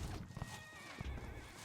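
A horse whinnies in the Conqueror's Blade battlefield, a short loud neigh up close over dense clattering combat and hoof noise.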